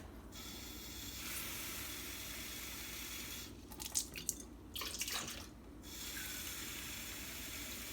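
Cold water poured from a tap into a mixing bowl while making bread dough with a starter, a steady running hiss interrupted by a few seconds of splashing and clattering in a quiet kitchen.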